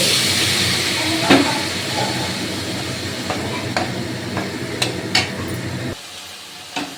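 A spoon stirs and scrapes through cauliflower curry with garam masala in a pan, sharp clacks and scrapes over a soft sizzle, which drops away near the end leaving a final faint knock.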